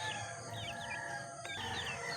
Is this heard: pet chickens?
yes